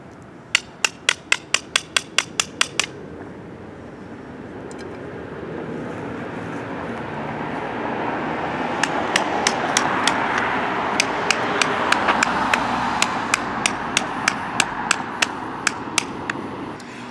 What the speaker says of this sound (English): So I have a little ball peen hammer.